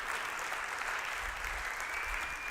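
A church congregation at a Friday evening service breaks into applause, a continuous even patter of many hands heard from a little distance, with a low rumble underneath.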